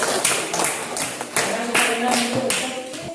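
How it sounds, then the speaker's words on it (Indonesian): A classroom of students claps for a presenting group, a dense burst of many hands applauding together at close range, with loud irregular peaks and scattered faint voices underneath. "Tepuk tangan dulu untuk kelompok dua."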